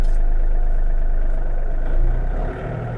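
A Yanmar US-330 mini tractor engine runs steadily in first gear of the low range with rear-wheel drive, a close, continuous low diesel drone that eases slightly near the end.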